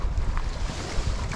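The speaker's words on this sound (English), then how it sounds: "Dang, it's windy." Strong wind buffeting the microphone at a riverbank on a winter day, a loud, rumbling low roar with gusty swells and splashy water texture, continuous across the short stretch with no talking.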